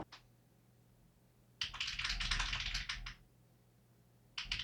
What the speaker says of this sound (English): I feel like I need to just fucking type it out.